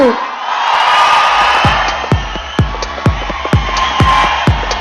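At the Gabbar Singh audio launch, an audience applauds and cheers for the music director. A crowd roar runs under a series of sharp, regular booming hits, with shouts mixed in.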